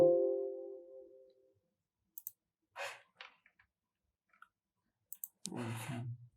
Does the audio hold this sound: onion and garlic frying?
no